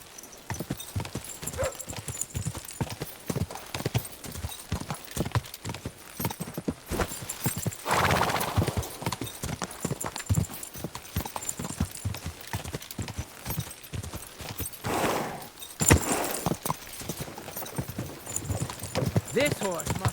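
Horse hooves clip-clop at a walking pace in a medieval video game set in Bohemia, a steady rhythmic clatter with an occasional neigh, mixed with voices talking over it.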